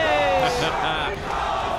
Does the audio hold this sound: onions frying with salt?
no